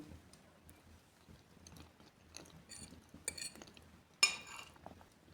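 Fried beans cooked in oil with onion are eaten with cutlery: faint clinks of a utensil against a dish and soft chewing, with a sharper scrape near the end, quiet and close.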